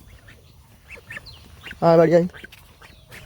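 Ducks being herded home along a road give a loud burst of quacking in the middle, with scattered fainter calls around it while a person calls out to them.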